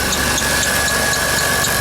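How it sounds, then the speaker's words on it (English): Squealing belt tensioner on an idling 1998 Dodge Grand Caravan, a steady high-pitched whine running unbroken over engine noise, loud and close with no talking. "Ooh, listen to that belt tensioner."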